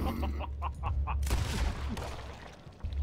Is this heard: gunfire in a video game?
yes